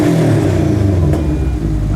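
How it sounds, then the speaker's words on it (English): A car engine revs up close, a loud rising mechanical drone holding for a couple of seconds with a brief dip and a voice briefly heard. "Rev it up, come on."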